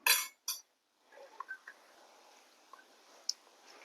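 A spoon works fruit juices and nuts together in a bowl for a fresh fruit cake. Two quick scraping bursts open it, then sparse, faint clinks follow against a quiet background.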